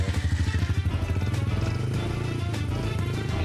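A child's 50cc four-stroke motorbike engine runs steadily nearby with a buzzing, pulsing idle that holds at a constant loud level throughout, with no talk over it.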